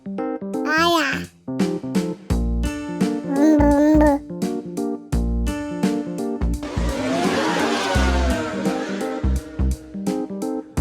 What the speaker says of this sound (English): remote car